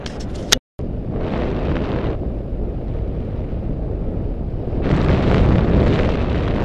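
Strong wind rushes past while paragliding up a valley near Chamonix, a steady broadband roar that briefly cuts out, then swells louder toward the end, with no talk.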